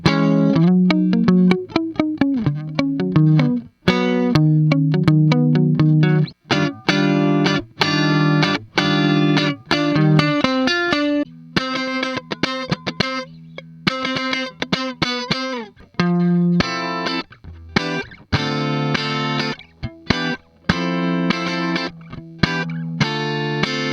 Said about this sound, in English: a Fender Twin Reverb amp simulation with a Fender 2x12 cabinet.